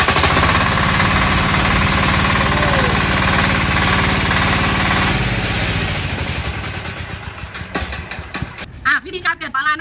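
A large diesel engine, started with a hand crank, runs loud and steady up close with a heavy knocking chug, then drops away near the end, leaving sparse irregular mechanical noises.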